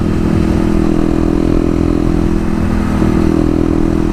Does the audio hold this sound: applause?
no